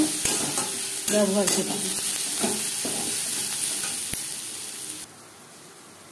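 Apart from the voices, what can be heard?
onions frying and being stirred in a pan with chili powder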